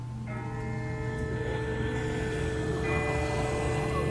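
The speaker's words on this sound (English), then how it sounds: "That's not the same bell as before. This one's further off." A bell rings in the distance in The Walking Dead video game, its sustained metallic tones hanging over a steady low ambient drone, soft and far off with no talk.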